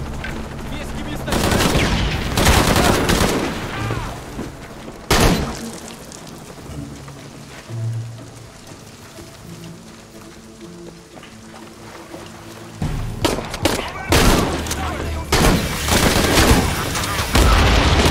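Gunfire in the video game Tomb Raider comes in loud, dense automatic bursts at the start and end, with a quieter stretch in between where occasional shots and muffled game sounds continue.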